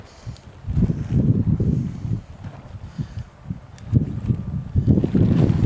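Gusty wind buffets the microphone outdoors beside water while a wing foil batten is being serviced, rising and falling in strong low roaring bursts.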